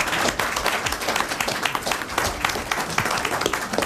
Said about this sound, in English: a round of applause for the minister